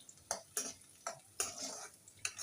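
Spices crackle and spit in hot oil in several sharp bursts, each fading quickly, with brief quieter gaps between them.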